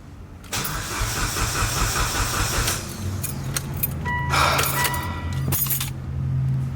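Big-turbo Mitsubishi Evo X cranks without catching: a rapid, sustained starter whir close by, broken into several attempts with short pauses and keys jangling between them.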